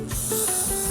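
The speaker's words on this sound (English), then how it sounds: "So normally I like to just spray it on the cloth" Bike polish wax sprayed from an aerosol can onto a cloth: one continuous, close, fairly loud hiss lasting about a second, with no talking.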